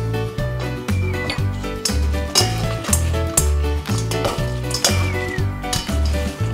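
Crispy fried chicken cubes are tossed with chili powder, giving steady sizzling and the clinking scrape of a utensil against a pot, with a low rhythmic thudding underneath throughout.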